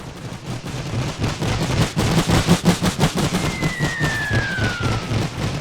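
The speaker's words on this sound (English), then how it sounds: "Are losing quite a bit of men to the machine gun fire." Machine gun fire and battle noise in a World War I strategy video game, a dense stream of rapid bursts with a rising whistle-like tone midway, loud and continuous without talk.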